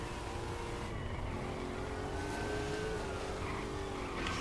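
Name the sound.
Robin's little motorbike engine in Lego Batman 3 video game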